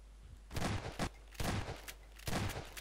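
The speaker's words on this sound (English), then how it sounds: "Why does this shotgun just take so long to kill you?" Shotgun blasts from Garry's Mod gameplay, three heavy bursts spaced roughly a second apart, each with a short follow-up crack, moderately loud over a low steady hum.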